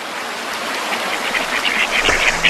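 Ducks quacking on tidal mudflats beside mangroves, a scattered chorus of calls over a steady wash of background noise.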